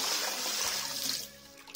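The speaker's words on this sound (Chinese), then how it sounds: "先把骨头清洗一下，" Running water washing pork bones in a kitchen sink, a steady close splashing stream that continues for most of the moment and then eases off toward the end.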